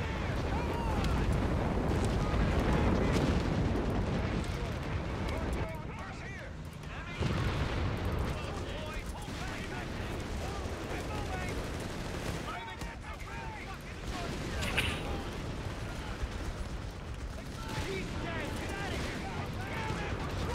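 Anti-tank gun and artillery fire rumble through a Company of Heroes 3 battle, a dense, continuous barrage of booms and gunfire with brief lulls, mixed under ongoing voice chat.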